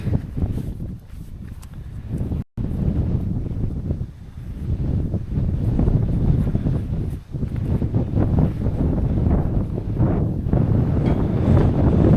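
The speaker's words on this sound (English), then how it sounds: "Oh man, it's windy here." Strong wind on a farm buffets the microphone continuously, a loud rumbling roar with gusty surges and a couple of brief drops.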